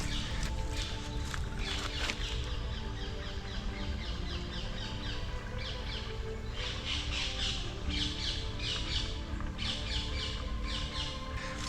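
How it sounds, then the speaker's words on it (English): Many birds sing and chirp continuously in eerie woods, a dense chorus of calls and squawks layered at varying distances over steady ambient noise. "there's so much birdsong"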